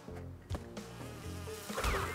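Insect-like buzzing of bees in the Crash Bandicoot 2 N. Sane Trilogy video game, a continuous drone with a few sharper bursts over a layered game soundtrack.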